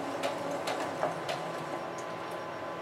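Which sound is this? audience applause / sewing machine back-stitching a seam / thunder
sewing machine back-stitching a seam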